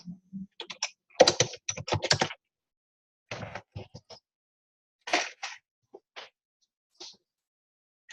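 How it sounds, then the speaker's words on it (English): Information being typed on a computer keyboard in short bursts of close, crisp key clicks, separated by silent pauses, with no voices. "It asks me to type in my information again."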